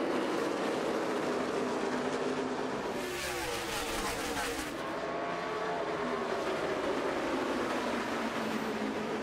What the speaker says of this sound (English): Clint Boyer on the outside, and green flag back in the air. 55 laps to go from Bristol.